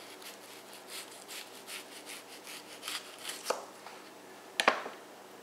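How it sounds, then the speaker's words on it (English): A Lt. Wright Bushcrafter HC knife cuts thin slices through an onion, with soft close scraping strokes followed by two crisp cutting snaps near the end. No talk. "So seeing how it's an onion, I'm going to try to do some really thin cuts."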